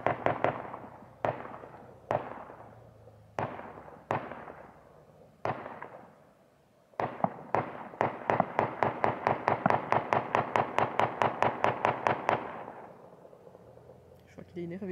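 Gunshots fired at cans crack out, first singly with pauses, then in a rapid sustained volley of sharp reports, echoing outdoors before stopping.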